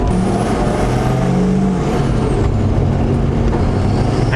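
A Hummer H1 swapped with an LBZ Duramax diesel and a 72mm turbo pulls hard under boost, with a loud, steady engine roar, a rising turbo whistle and heavy road noise. No voices are heard.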